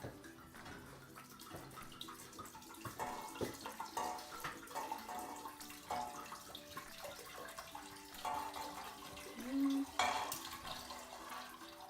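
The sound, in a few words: red wine being poured into a pot for mulled wine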